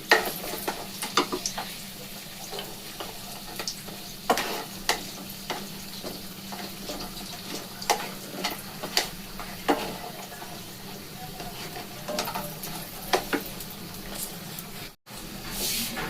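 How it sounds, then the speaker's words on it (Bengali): Bori lentil dumplings fry in oil in a pan, giving a steady soft sizzle with scattered crackles and pops throughout, moderately faint and without talk. "বড়িগুলো এমনভাবে ভাজবেন যাতে পুড়ে না যায়, একটু লাল লাল হবে সেই রকম"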